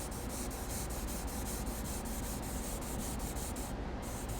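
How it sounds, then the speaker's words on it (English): Gentle hand sanding of proud paint touch-up spots on a car using 3000 grit sandpaper on a small block, a steady soft rubbing hiss that continues evenly throughout at close range. "just very gently come back in and sand some of those proud spots down"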